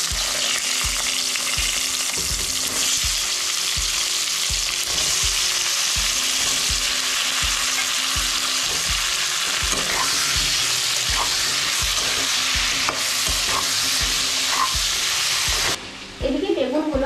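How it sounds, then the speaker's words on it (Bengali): Eggplant pieces sizzle loudly in hot mustard oil with turmeric and salt in a wok, with rhythmic scraping and stirring throughout and a brief pause near the end. "বেগুনগুলো ভেজে নেব।"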